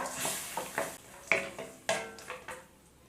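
Spoon stirring rice in a pan after salt and asafoetida go in, with a series of distinct scraping strokes over a faint background sizzle, close and moderately loud with no talking.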